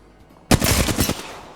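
Automatic gunfire in a squad-based shooter game, with Lifeline returning fire, rips out as a loud, close burst of rapid shots lasting under a second before cutting off.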